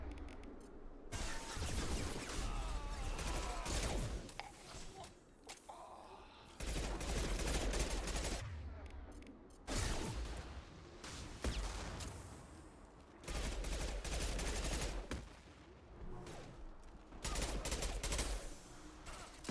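Bursts of heavy automatic gunfire from a Mass Effect 2 firefight, several sustained volleys separated by short pauses, loud and close throughout with no talking.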